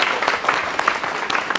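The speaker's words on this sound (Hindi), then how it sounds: "एक बार जोड़ो तालियां बजा दो उन सबके लिए" Brief burst of audience applause from a classroom crowd, scattered claps popping over a soft wash of clapping, fairly close and moderately loud.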